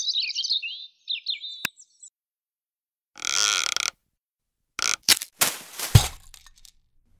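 A smartphone wake-up app plays synthetic bird chirps: short high warbling tweets, then a silence, a buzzing synthetic tone, and a run of sharp clicks and crackles, all close and clear.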